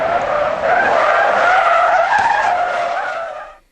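Tires on a Dacia Logan squeal loudly during a moose avoidance swerve test, a sustained skid that holds steady for about three seconds and then cuts off abruptly, with no voices.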